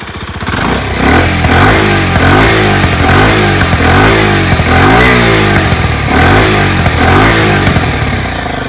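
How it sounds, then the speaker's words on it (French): A Kawasaki Z125 motorcycle engine with a large aftermarket exhaust, loud and close, revving up in rhythmic rising sweeps again and again over a steady rumble, with crackling pops. "quand on la tire un peu dans les tours, comme je vais vous montrer après, elle fait des petits pétaradements"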